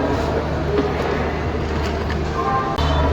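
Busy platform at Howrah station as the Bhubaneswar–Howrah Jan Shatabdi Express stands by, a loud continuous rumble of train and crowd noise with a brief drop and thump near the end.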